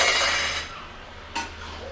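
A metal spatula is swapped out while mutton cooks in a pot. A single sharp metallic clink rings out against the pot after a fading sizzle of cooking noise.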